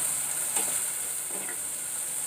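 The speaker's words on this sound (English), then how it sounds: "It's frying very nicely." Onions frying in a pan for Rajasthani dal dhokli give off a steady, even sizzle and hiss, with a couple of faint stirring scrapes and no talk.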